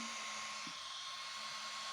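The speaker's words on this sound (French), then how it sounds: "Le ventilo du contrôleur fonctionne." A small cooling fan on the motor controller of a Senton 3S truck runs with a steady, even whirring hiss, faint and close, with no other sound.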